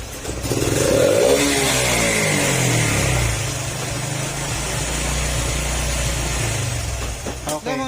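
A 125 motorcycle revs hard after a throttle body cleaning, then its engine note sinks slowly as the RPM drags down to a rough idle, loud and close, with a brief rattle at the end.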